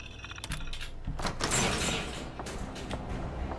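Mechanical door sliding open in the video game Fallout 4, a continuous grinding, clanking rumble with scattered clicks, close and fairly loud, swelling in the middle before easing off.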